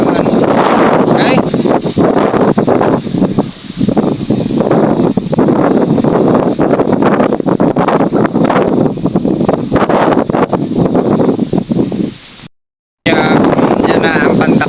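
Strong wind buffeting a microphone over a rice field at heading stage, loud continuous gusty roar with rustling, broken by a brief dropout near the end, and someone talking faintly under it.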